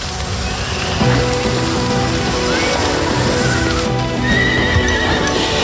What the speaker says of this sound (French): Les chevaux!